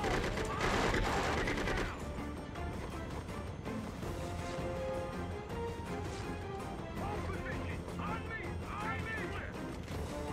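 Sustained gunfire and bursts of shooting in the military video game Conflict: Desert Storm 2, a dense, steady barrage lasting throughout, with a voice talking over the combat noise.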